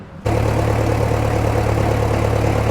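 A 575 tractor engine idles quietly and steadily up close, a constant low hum with a faint rattle that kicks in just after the start and holds evenly, with no voices.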